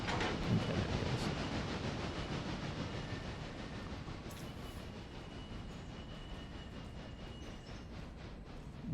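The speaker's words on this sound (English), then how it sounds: "Go, grain train, go." A grain train rolls along the track in the Railroader video game, giving a steady rumbling clickety-clack with faint wheel squeal, distant and continuous with no talk.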